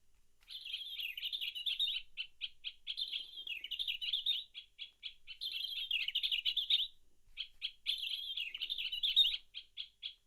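Birds chirp and tweet in quick bursts of repeated calls, bright and close, alone without talk; no flapping is evident.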